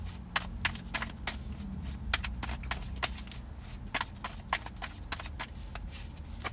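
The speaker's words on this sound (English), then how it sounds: "that was a lot of shuffling" Tarot cards being shuffled over and over, a run of crisp, rapid snaps and flutters repeating in bursts at close range, with no voices.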